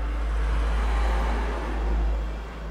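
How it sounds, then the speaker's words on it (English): A car passes by nearby outdoors, a broad low rumble swelling and fading twice over a few seconds, heard alone without talk. "There's another car."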